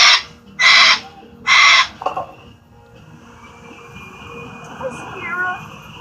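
A pet bird gives three loud, harsh calls in quick succession early on, followed by softer chirps and faint whistles against a quiet indoor room.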